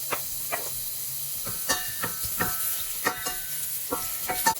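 Chopped onion sizzles in a little sunflower oil in a pot, a steady close hiss broken by sharp crackles and scraping stirs, with no talking.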